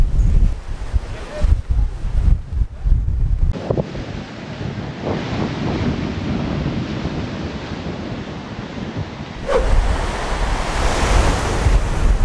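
Ocean waves on a beach at Princess Cays in the Bahamas, a loud steady rush of surf with gusty wind buffeting the microphone, breaking swells rising and falling throughout.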